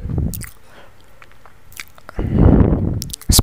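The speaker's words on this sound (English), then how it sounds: "Now let's spread it" Topping is spread across slices of bread for a stovetop bread pizza, making close wet squishing and smearing sounds in two loud stretches with a quieter gap between.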